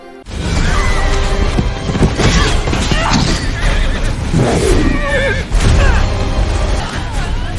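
A horse in a movie scene neighs and whinnies loudly several times amid clip-clopping hooves and crashing commotion, the calls rising and falling over a busy, dense soundtrack.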